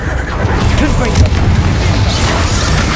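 Confringo explosive spell in Hogwarts Legacy, loud booming impacts and crashing bursts packed tightly together, with a brighter hiss of debris toward the end.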